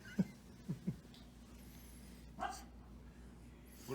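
A puppy gives a few short yips and small barks early on, fairly quiet and close, in a home kitchen with faint household background noise.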